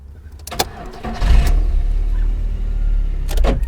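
Car engine cranking and starting up during an accessory wire test, a brief starter whir rising into a steady close idle rumble, with a short electrical click near the start.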